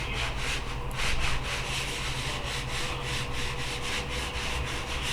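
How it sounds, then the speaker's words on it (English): Yorkshire Grit abrasive paste being rubbed by hand onto the outside of a wooden bowl with the lathe switched off gives a continuous scratchy rubbing, with rhythmic back-and-forth strokes at close range. "coating the outside of the bowl."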